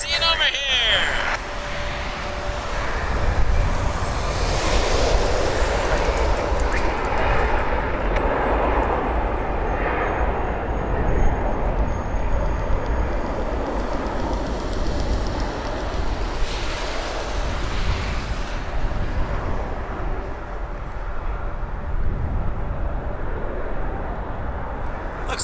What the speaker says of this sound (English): The 747 is taxiing over here.